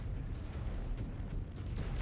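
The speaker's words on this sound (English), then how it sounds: "Explosion imminent. Destroyed." A mech's exposed reactor blowing up in the MechWarrior 5: Clans video game, a dense, steady rumbling roar of blast noise that holds throughout without clear breaks.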